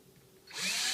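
A power drill boring screw holes for mounting a surface medicine cabinet: a faint idle start, then the motor ramps up into a loud, sustained high-pitched whir, close by and with no talking.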